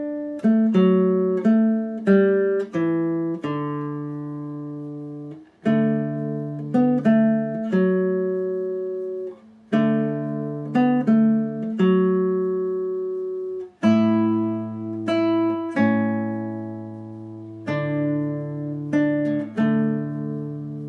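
A plucked guitar plays Silent Night as a slow, gentle melody alone, notes ringing out in phrases with brief pauses between lines.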